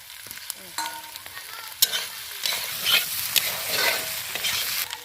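A spoon stirs onion and a ground paste of garlic, ginger, coriander and cumin frying in a pan, with soft scraping strokes and a gentle sizzle rising and falling, close and moderately quiet.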